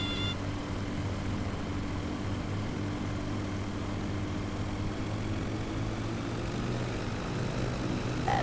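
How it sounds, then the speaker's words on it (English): Steady propeller aircraft engine drone in Microsoft Flight Simulator 2024, throttle added near stall speed, a continuous even hum with a low tonal rumble held throughout, no voices. "Add a little more throttle because we're just on the edge of actual stall"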